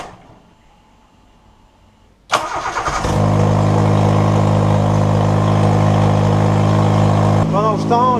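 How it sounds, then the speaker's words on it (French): A car engine cranks abruptly after a quiet stretch, catches and settles into a loud, steady idle hum that carries on close by for several seconds. "Et je vais démarrer la voiture, voir si sous pression, il n'y a aucune fuite"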